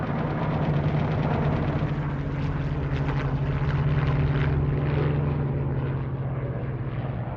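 World War II propeller aircraft, a large formation of torpedo planes and level bombers, drone in a loud, steady, continuous engine roar with a thick low hum throughout, with no talk.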